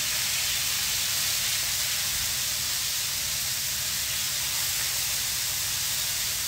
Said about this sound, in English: you can hear that sizzle and that pop